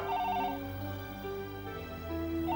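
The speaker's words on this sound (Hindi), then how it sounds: "प्रीति तुम फोन क्यों नहीं उठा रही हो?" A phone rings with a repeating electronic tone pattern, steady and fairly close, with no voices over it.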